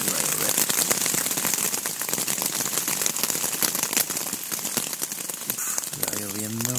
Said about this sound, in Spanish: Va lloviendo toda la noche.